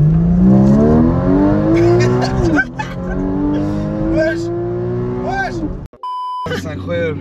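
Porsche Cayman in sport plus mode accelerating hard, loud engine rising in pitch through gear changes, with excited voices talking over it and a brief electronic beep near the end.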